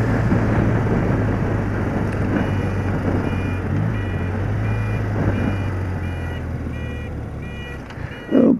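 A gas lorry rumbles nearby on the road, a steady low engine drone heard from a moving vehicle, with repeated high electronic beeps over it and a sudden louder bump at the end.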